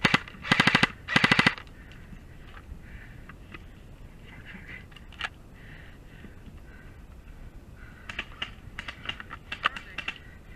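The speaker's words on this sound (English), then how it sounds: "Give me covering fire." Airsoft guns fire covering fire in two loud, rapid bursts close by, then quieter scattered pops and clicks follow during an outdoor game.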